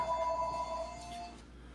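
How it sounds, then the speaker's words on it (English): A telephone rings with a repeated electronic tone, fairly faint and steady for about a second before fading, with no talk over it. "The phone was ringing."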